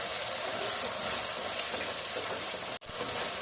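Masala with cashew paste frying in a pan for chicken do-pyaza gives a steady, close, hissing sizzle throughout, broken once by a brief gap near the end.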